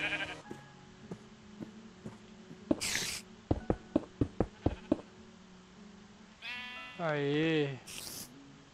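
A Minecraft goat bleats near the end, a loud wavering cry following a run of sharp clicks and block-placing taps, with quiet game ambience throughout.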